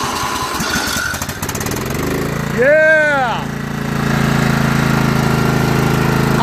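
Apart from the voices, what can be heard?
small engine leaf machine starting and running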